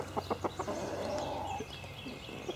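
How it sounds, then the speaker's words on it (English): Chickens cluck in a short series of rhythmic calls, followed by a drawn-out vocalization, over steady low outdoor background noise; fairly close but not loud. "Chickens are coming over to inspect it."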